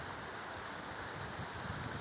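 A small waterfall on a hiking trail gives a constant broadband rushing hiss of flowing water, steady and enveloping, with no voices.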